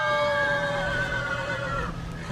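A single horse whinny rings out loud and close, its sustained wavering cry sliding slightly downward over about two seconds before cutting off, used as a sound effect within a spoken folk tale about an old man descending a hill.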